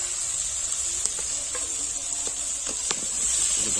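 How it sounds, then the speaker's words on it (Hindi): Tomatoes and fenugreek leaves fry in a pan with a steady, bright sizzle throughout, broken by a few soft stirring clicks and scrapes; close and moderately loud, with no talk. "बढ़िया से भून लेंगे हम"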